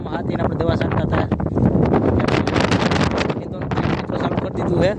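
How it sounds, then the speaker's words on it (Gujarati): Strong wind gusts through neem trees around a farm field, roaring and buffeting the microphone in surges while someone talks over it. "પવન જુઓ, પવન ઝાડવા જુઓ"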